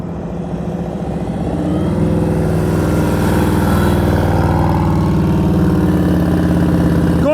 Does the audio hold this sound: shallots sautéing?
no